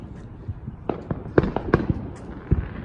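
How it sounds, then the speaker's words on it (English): Fourth of July fireworks at a house go off in a rapid run of sharp, loud bangs and crackles. The bursts are irregular and spaced from near to farther off. "because of those fireworks still rolling"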